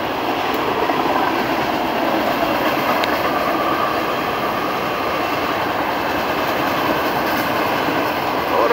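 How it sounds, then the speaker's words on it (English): A long freight train rumbles steadily past nearby, a continuous roar of wheels and rail noise with no break. "Long train."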